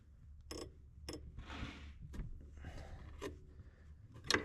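Ratchet loosening fan clutch nuts on a 1999 Toyota 4Runner, a handful of sharp metallic clicks and scrapes spaced unevenly, fairly quiet and close, with no talking.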